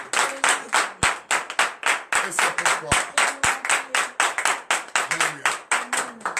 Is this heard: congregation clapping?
yes